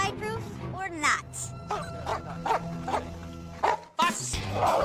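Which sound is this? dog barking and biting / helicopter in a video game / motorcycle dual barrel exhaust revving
dog barking and biting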